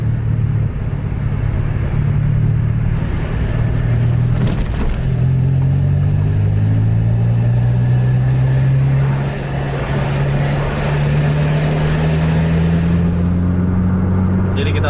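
Hino and Scania buses run on the Medan–Takengon road, a heavy engine roar that stays loud and steady, with a low drone climbing in pitch as one accelerates, with no voices over it.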